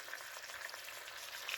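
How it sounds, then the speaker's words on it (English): Pork carnitas sizzle gently in oil inside a hot PowerXL 1550W 6-quart grill air fryer, a faint, steady crackle that goes on alone without pause. "you could already hear it sizzling."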